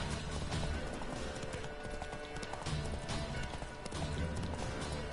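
Horse hooves clip-clop in a steady galloping rhythm in The Witcher 3, moderately loud over a dense backdrop of game sound.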